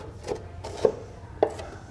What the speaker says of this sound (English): And we're going to slice these up